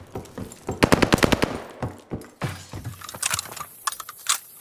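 Rapid automatic gunfire cracks out near a hardpoint in Call of Duty: Vanguard, a dense burst of sharp shots followed by scattered single shots and clatter, loud and close.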